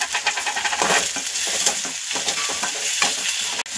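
Onions being sautéed in oil for a homemade sandgyachi bhaji, a dense, steady sizzle with scraping stir strokes, close and fairly loud throughout, with no talking.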